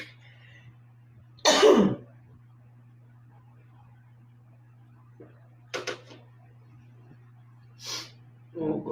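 A person coughs and clears their throat during a spoken discussion, with one loud cough burst followed by a few shorter throat sounds, spaced apart over quiet background hum.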